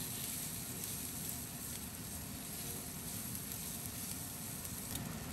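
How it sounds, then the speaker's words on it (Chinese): Cured fish stir-fried in a wok with garlic slices and dried chili segments, giving a steady, dense sizzle that runs evenly throughout at moderate level, with no talk. "然后加入蒜片和干辣椒段，炒出蒜香味后"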